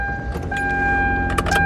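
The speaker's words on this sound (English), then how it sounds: "grab our key, start up the car" A Hyundai Santa Fe is started with its key: a steady, loud low engine rumble sits under a sustained electronic chime tone, with a brief jingle of keys near the end.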